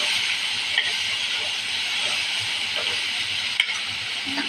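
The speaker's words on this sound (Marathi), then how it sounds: "आणि ते परतून घेऊया मसाले घालून सगळे" Drumstick and potato curry stir-frying with spices in a pan makes a loud, continuous sizzling hiss, broken by occasional spatula scrapes and clicks.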